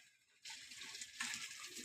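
Water gushes from a coin-operated drinking-water dispenser into a can, starting abruptly after a brief quiet moment and continuing as a steady, hissing pour.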